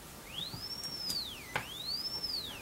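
A sine wave tone from an ICL8038 function generator plays faintly through a loudspeaker, sweeping smoothly up and down in pitch in two long glides over a low background hiss.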